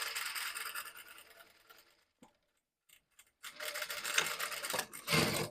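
A sewing machine stitches a blouse, a fast steady rattling run that cuts out for a brief pause and then starts again, close and fairly loud.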